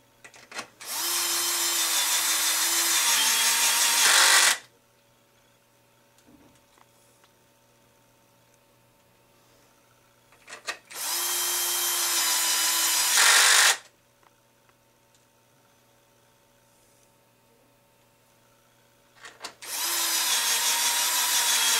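A power driver runs screws into the front plate of a Baja 5T RC car in three long, loud whirring bursts of about three to four seconds each, separated by quiet pauses with small handling clicks.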